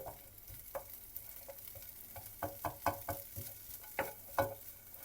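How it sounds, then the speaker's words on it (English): Small pieces of chicken salami cooking in a pan while being broken up and stirred, with faint sizzling under a series of soft scraping knocks from the utensil, quiet and close. "I'm just gonna break this down into small pieces and let it cook for like 30 seconds. And just stir this up."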